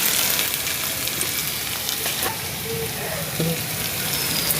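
Onions frying in hot oil in a pan while making rui fish kalia, with turmeric added, a steady loud sizzle and crackle throughout, with a faint voice talking underneath.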